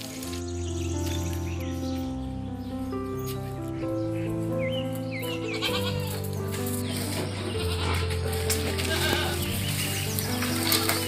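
A goat bleats amid steady, loud background music in a rural farm setting, its calls partly blended into the dense musical backing.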